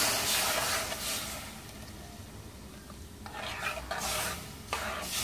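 Beer poured over fried chicken in a pan gives a soft hiss and sizzle with stirring scrapes, fading midway then swelling again, fairly quiet and close.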